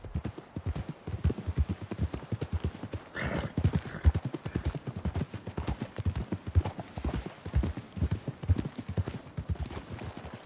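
Horses in the Red Dead Redemption 2 video game trot with a steady, close clip-clop of hooves, and one lets out a brief neigh partway through.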